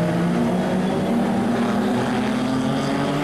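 Sports and GT race cars sweep past on a track, a steady, loud engine roar droning throughout without clear breaks, heard from trackside at a distance, with no talking over it.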